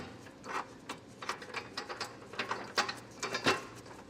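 Ratchet wrench with a 19mm socket tightening bolts on a TowSmart Class III trailer hitch being installed on a 2025 Subaru, rapid clicking pawl strokes in short irregular bursts, close and fairly quiet, no talking.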